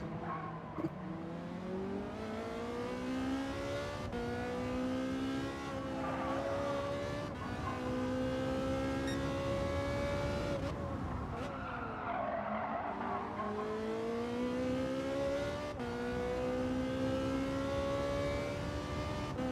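A Porsche race car in Gran Turismo 7 screams through its gears, the engine note climbing and dropping in long steady sweeps with brief shifts and a dip for a corner, loud and continuous with tire noise underneath.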